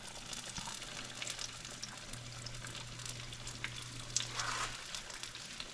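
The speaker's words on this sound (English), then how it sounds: "so just gonna allow these to fry" Saltfish fritters frying in hot oil give a steady, moderately loud sizzle with crackling bursts, heard alone throughout with no voices.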